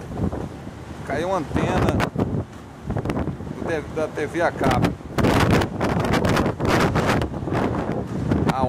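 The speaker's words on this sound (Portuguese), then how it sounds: "Caraca, é forte mesmo o vento, tá até me balançando aqui." Strong storm wind in Wichita, Kansas roars and buffets the microphone loudly and continuously, with gusts rising and falling while someone speaks over it.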